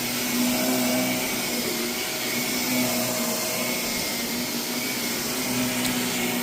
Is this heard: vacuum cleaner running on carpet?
yes